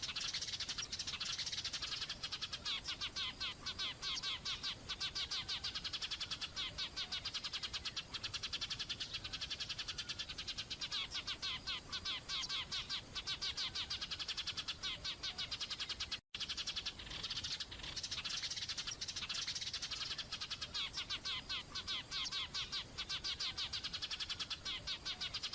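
Blue tits chirp and sing in a rapid, continuous stream of high, thin calls and trills, steady and dense for the whole stretch with only one brief dropout.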